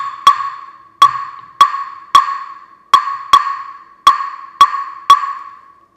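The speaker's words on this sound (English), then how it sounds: "It's basically the wood block that sounds like this." Sharp wooden clicks of a clave or wood block in an Afro-Latin salsa rhythm, nine bright, resonant strikes in an uneven repeating pattern, close and isolated with short decays.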